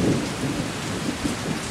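A thunderstorm with heavy rain beats down in a continuous hiss, while low thunder rumbles and rolls beneath it, with no voices.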